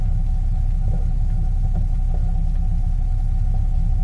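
Sewer jetter nozzle running inside a drain line, a steady loud low rumble and throbbing hum that holds without a break, with faint knocks now and then.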